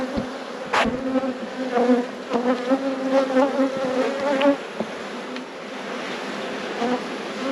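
Bees from four overwintered hives drone steadily in a continuous buzz, with individual insects flying close past at moments, heard alone without talk.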